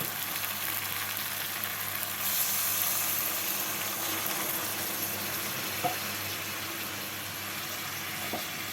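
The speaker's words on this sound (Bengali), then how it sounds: "এবারে এর মধ্যে দিয়ে দেবো অল্প পরিমাণে জল" A small splash of water goes into a hot pan of frying bata fish chorchori with potato and onion greens, producing a continuous crackling sizzle that holds steady at close range, with no talk.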